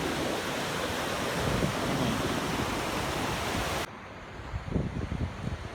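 Ocean surf at San Buena Ventura Beach at low tide, a steady broadband wash of breaking waves that drops abruptly to a softer, rumbling surge with bursts of water near the end, no voices.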